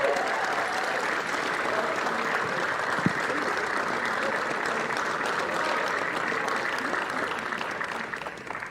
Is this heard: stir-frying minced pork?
no